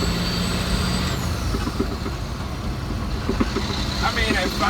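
A 2002 semi truck on a test drive, its engine droning steadily from inside the cab, with a brief high whine fading early on and faint clicks and rattles along the way.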